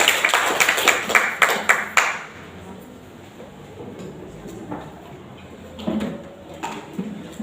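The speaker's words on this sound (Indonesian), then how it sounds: "sekali lagi tepukannya meriah untuk Ibu Eva" Audience clapping at a school teachers' dissemination session in Kupang, a burst of dense applause for the first two seconds that thins into scattered claps and room noise.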